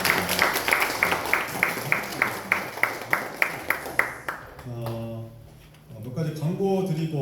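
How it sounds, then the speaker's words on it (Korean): A crowd claps in a steady, even rhythm for about four seconds, then a voice starts speaking as the clapping fades. "다시 한번 감사의 박수 부탁드립니다."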